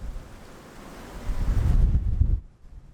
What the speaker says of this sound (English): Boy, it's really gusting now.